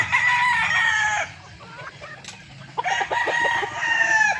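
A gamefowl rooster crows loudly twice at a gamefarm, a long strained call near the start and another near the end, with hens clucking quietly in the gap between.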